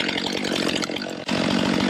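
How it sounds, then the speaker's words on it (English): Chainsaw cutting into a rotten, punky tree in snowy woods, a steady loud whining drone running through the whole stretch with a brief dip near the middle as the cut shifts. "I'll try to keep the chainsaw out of the snow"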